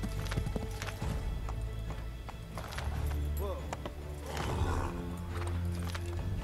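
Steady clip-clop of horse hooves with a brief neigh in the video game Assassin's Creed 3, under a low droning background and some talking.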